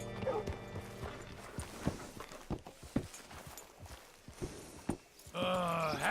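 Horse hooves clip-clopping on the ground in Red Dead Redemption 2 as a rider pulls up at a hitching post, a series of irregular, fairly close hoof strikes, followed at the end by a brief sustained tonal sound.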